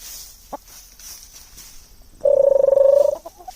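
A single chicken call rings out for under a second, with soft scattered farmyard sounds around it.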